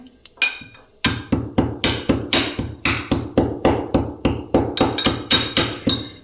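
Whole red chilies and cardamom are chopped on a board in a loud, steady series of sharp knocks, about two per second after a brief pause. The strikes are close and there is no talking.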